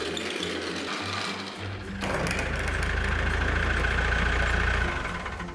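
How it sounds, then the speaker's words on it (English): A cartoon tractor engine idles with a rough mechanical chug, then swells into a louder, steadier running drone that fades slightly at the end, with no speech over it. "Hey, Midnight, nice tractor."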